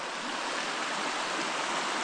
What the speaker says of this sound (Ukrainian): Річка гірська.